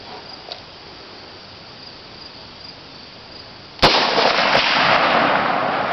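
An L1A1 rifle fires a single sharp, loud shot outdoors after a few seconds of steady insect chirping, followed by a sustained burst of broadband noise.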